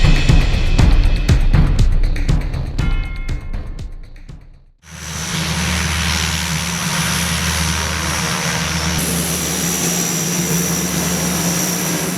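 An aircraft carrying the military governor of North Kivu province lands at Beni, in eastern DR Congo. Clattering noise cuts out abruptly, then a loud, steady engine roar fills the rest.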